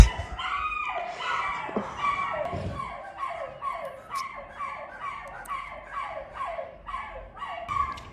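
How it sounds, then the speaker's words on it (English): Dogs near a garden bark and yip in a steady rhythmic series, roughly a dozen sharp, high barks at close range, with no speech over them. "sorry about the dogs."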